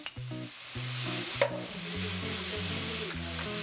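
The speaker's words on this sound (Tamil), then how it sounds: "ஜஸ்ட் ஒரு இப்படி ஒரு கிண்டு அப்படி ஒரு கிண்டு நல்லா மிக்ஸ் ஆகிடுச்சு" Scrambled eggs with chili powder, pepper, turmeric and salt stirred in a frying pan: a soft, steady sizzle with scraping strokes of the spoon, close and fairly quiet, over faint background music.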